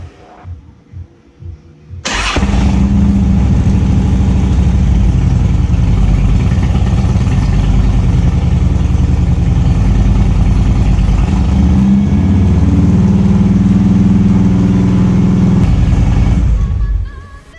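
A motorcycle engine starts abruptly and idles with a steady, loud throbbing rumble, then cuts off near the end.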